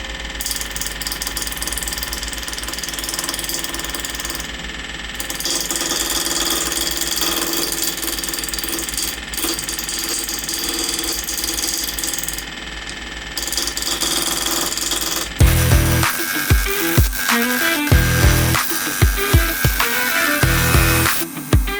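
The Woodstarter BWL1218 wood lathe hums steadily for a long stretch. A gouge then chips and rounds the spinning stock, and the cutting becomes a rough, irregular chatter right up close.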